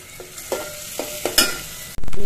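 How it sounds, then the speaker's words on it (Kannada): Onions and a little garlic fry in a pan for a village-style greens saaru, with a steady sizzle and a few spoon scrapes, then a sudden loud burst of hissing at the end. "ಈರುಳ್ಳಿ ಎಲ್ಲ ಫ್ರೈ ಆಗಬೇಕು."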